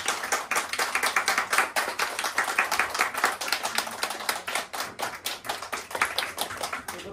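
Audience applause at a celebration of a successful concert and lesson program: dense, steady hand clapping from a group, sustained evenly for about seven seconds with no talking over it.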